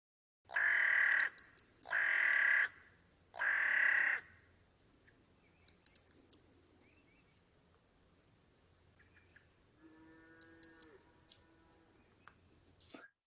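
Birds calling in the Irish countryside near cliff faces: three loud harsh caws in quick succession, then scattered softer chirps and clicks and a brief warbling call amid quiet open-air ambience.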